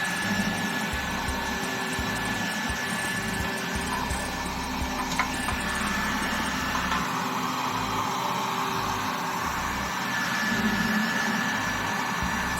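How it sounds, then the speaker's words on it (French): A steady, loud roaring whoosh of a heat gun blowing hot air while heating a tank being cleaned, continuous and unbroken throughout, with a low rumbling undertone. "Un sèche-cheveux pourrait faire aussi l'affaire, mais beaucoup plus rapide avec le décapeur"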